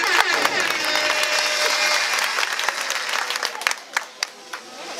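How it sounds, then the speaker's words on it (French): Students at a high school excellence award ceremony applauding themselves, a dense burst of clapping from a large group that holds steady, then thins out into scattered individual claps near the end. "Est-ce que vous pouvez applaudir pour vous-même?"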